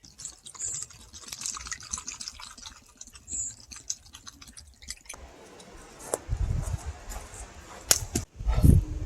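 Water from a spring trickles and splashes close by on a coastal trail, with faint squishing and dripping, ending in a few louder gurgles as a container fills.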